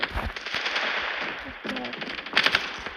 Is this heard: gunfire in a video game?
yes